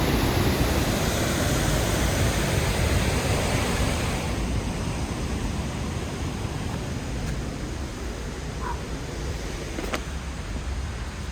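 Powerful river water rushing through the Torrs gorge at New Mills, a dense, steady roar of churning flow that fills the whole scene, loud and continuous with no talk.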